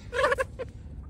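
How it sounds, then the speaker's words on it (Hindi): Hens and a rooster clucking close by, a short burst of two or three quick calls followed by a softer cluck. "ये है तीन मुर्गियाँ दो मुर्गियाँ हैं एक ये मुर्गी एक वो सफ़ेद वाली मुर्गी और ये मुर्गा है"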